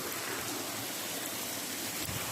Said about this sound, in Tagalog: Wow, maganda ng agos ng tubig.